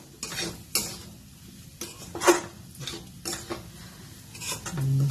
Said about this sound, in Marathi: बारीक चिरलेली कोथिंबीर घालायची आणि चांगलं हलवायचं